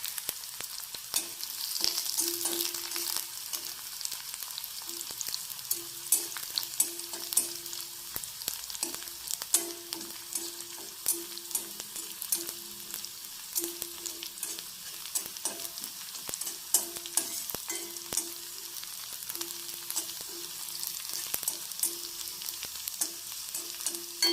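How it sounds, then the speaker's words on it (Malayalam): Green and red chilies, curry leaves, onion and mustard seeds sizzle steadily in a hot pan for the whole stretch, with a spoon stirring and scraping in repeated strokes close up and no talking. "പച്ചമുളക്, ചുവന്ന മുളക്, കറിവേപ്പില, ഉള്ളി, കടുക് അതൊന്ന് ഇളക്കി യോജിപ്പിക്കും."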